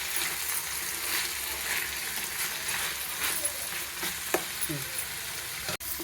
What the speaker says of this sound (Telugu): టమాటా వేస్తున్నాను.